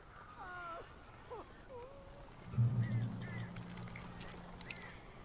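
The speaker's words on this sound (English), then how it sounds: "These birds are weird." Strange birds in the video game Alan Wake give several short, wavering calls and squawks at moderate volume, followed by a louder low rumbling burst midway, with faint chirps continuing over a murky ambient background.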